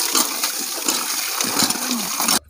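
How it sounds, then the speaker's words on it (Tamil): Fish is washed in clean water in a village kitchen. Water gushes and splashes steadily at close range for a couple of seconds, then cuts off abruptly. "மீன் வந்து நல்ல தண்ணியில் ஒரு டைம் கழுவி எடுத்துக்கலாம்."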